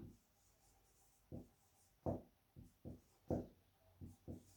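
Chalk or marker scratches out short strokes on a classroom board, a series of brief, faint scraping marks in uneven rhythm, heard close with no voice over them.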